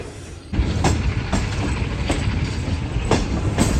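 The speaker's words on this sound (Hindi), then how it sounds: "तो ये फाइनली ट्रेन ZCU36 के साथ निकल रही है मुल्तान कैंट रेलवे स्टेशन से।" Shah Hussain Express pulling out of Multan Cantt railway station, a steady close rumble of rolling rail cars starting after a brief quieter moment, with rhythmic clickety-clack wheel beats over rail joints recurring throughout.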